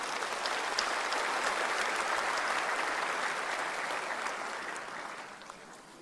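A large audience gives a standing ovation at the 2024 Indonesian presidential inauguration, with dense, sustained applause filling the hall that eases slightly toward the end.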